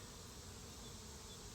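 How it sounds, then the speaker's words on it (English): A steady, soft buzzing drone of many honey bees at a hive during an inspection, continuous and even throughout, with no voices. "Looks like there's a lot more bees here than there was last week."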